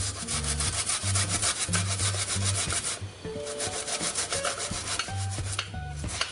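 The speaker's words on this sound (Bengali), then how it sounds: "ব্লেন্ড না করে এই গ্রেটার দিয়ে গ্রেট করে নিচ্ছি" Onion rubbed against a metal hand grater in quick, rhythmic rasping strokes, close and loud, for onion juice, continuing steadily with a brief pause midway and no speech.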